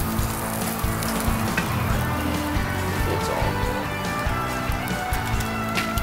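Beer-steamed bratwurst and kielbasa sizzle in a pan set over charcoal coals, a loud, constant crackling hiss that runs the whole time with small pops, close up and without speech.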